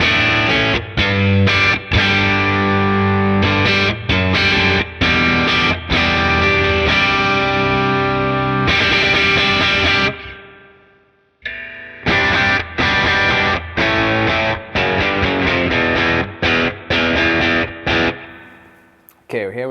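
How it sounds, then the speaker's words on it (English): An electric guitar through a Naomi tremolo pedal and a slightly driven amp with spring reverb plays chords with a choppy, pulsing tremolo and springy reverb tails, pausing briefly midway before resuming. "here we have a slightly driven amplifier with a little bit of a spring reverb"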